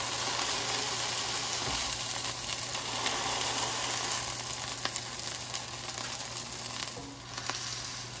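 Vegan burger patties for an In-N-Out style Flying Dutchman sizzle steadily in a hot pan, a loud, continuous frying hiss with occasional crackles and pops, close by and alone without talk.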